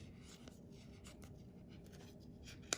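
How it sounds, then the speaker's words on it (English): A bone folder works a double layer of paper, making soft, faint scraping and rubbing strokes in a quiet room, closing with a small tap. "I'm gonna kind of use my bone folder right here"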